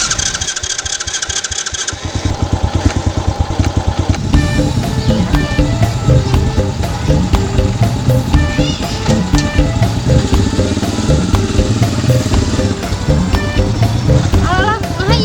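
A motorcycle engine cranks and catches after a couple of seconds, then idles loudly and unevenly up close with a steady throbbing rumble, while voices talk over it.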